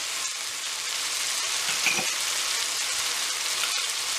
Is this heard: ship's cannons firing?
no